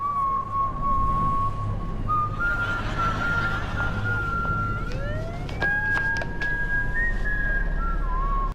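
A clear whistled rendition of Omar's theme from The Wire, with sliding melodic notes, steady against a low hum of traffic or engine noise in the background.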